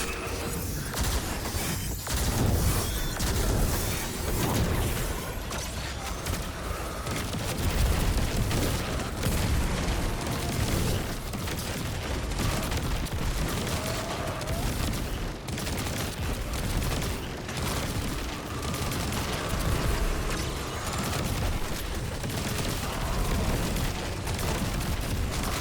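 Mobius Quiver shots from a Void Hunter firing in Destiny 2, a dense, continuous barrage of booming blasts and impacts that carries on steadily at high loudness for the whole stretch, with no talk over it.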